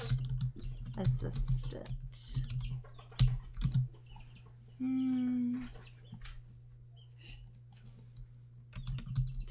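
Typing on a computer keyboard while formatting a works-cited entry in Google Docs, a run of quick clicking keystrokes near the start and again at the end, close, with a voice briefly speaking in between and a steady hum underneath.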